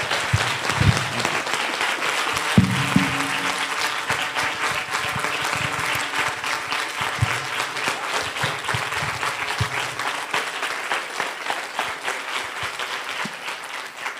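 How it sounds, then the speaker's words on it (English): A large conference audience applauds loudly and steadily, a dense wash of clapping that continues without a break for the whole stretch. "Everybody give Carol a huge, loud round of applause"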